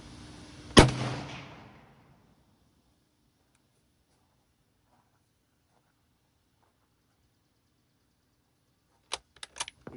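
A single loud 6.5 Swede rifle shot with a 144 grain load cracks sharply and echoes away outdoors, followed by silence and a few faint clicks of handling near the end.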